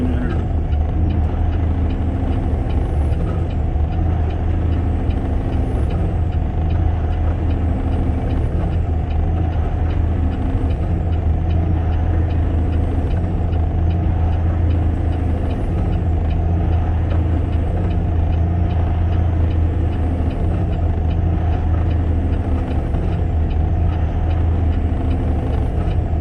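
A heavy truck's engine holds a steady pull at about 1,500 RPM while crawling over Monarch Pass under chain law. The deep, constant drone carries close and loud throughout, with no talking.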